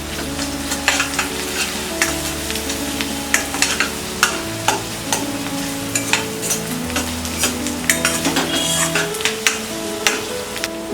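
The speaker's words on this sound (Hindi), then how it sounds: "डालेंगे ये गार्लिक पेस्ट, मिक्स कर देते हैं" Garlic paste is stirred through a sizzling frying pan while a curry of moong sprouts is cooked, with a spoon scraping and clicking in an irregular rhythm over a constant close sizzle.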